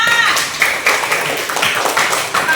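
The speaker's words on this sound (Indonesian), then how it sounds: "tepuk tangan dulu untuk kita semua" A classroom group claps hands together in a brief, close burst of uneven, overlapping claps that continues steadily throughout.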